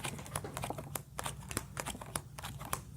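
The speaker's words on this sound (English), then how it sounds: "I'm going to shuffle these cards, and then now I'm going to deal them out into 3 piles." Playing cards are shuffled close-up in a fast run of crisp riffles and clicks, with a steady rustle under them and no voices.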